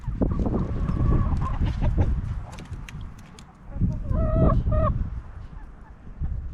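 Chickens and a rooster on an Arizona high desert ranch, a busy barnyard of clucks and squawks with a louder crowing burst near the middle, close by and continuous.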